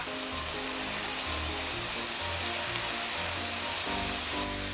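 Boiled bamboo shoots, cut into strips, hit a pan of frying pork and set off a loud, steady sizzle that runs continuously, with faint clatter from the pan underneath.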